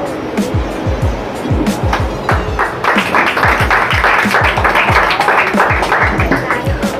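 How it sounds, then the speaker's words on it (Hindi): Applause at an award ceremony for a charity foundation's anniversary in Kanpur, with loud, thumping claps over background music that has a strong repeated beat, building into dense clapping in the second half. "तो हमारे भैया आशीष जी के लिए जरा जोरदार तालियां।"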